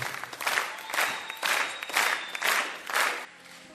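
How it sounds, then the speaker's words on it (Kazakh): Wedding guests applaud with steady clapping in several swelling waves, loud and close, fading near the end. "бір қол шапалақ қағып, қошаметтеп қоямыз ағайындар"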